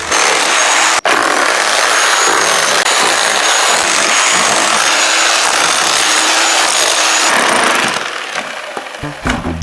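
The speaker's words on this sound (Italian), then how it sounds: "Per frantumare il massetto ovviamente userò un martello demolitore." A demolition hammer breaks up a concrete screed floor in a loud, continuous, harsh rattling roar that goes on without pause, then tapers off near the end.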